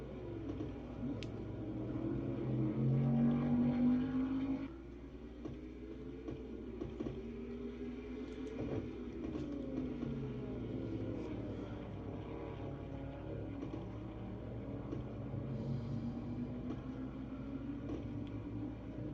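Race cars from a racing video game, running an NNSCRA Castrol GTX Cup race at Riverside, drone down the straightaway. Several engine tones rise and fall in pitch, and one loud engine cuts off sharply partway through.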